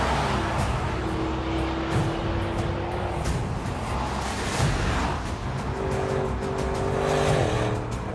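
A big performance SUV, an Audi RSQ8 or Porsche Cayenne Coupe, driven flat out on a race track: a continuous loud engine roar with heavy wind and tire noise, and the engine pitch climbs and shifts near the end.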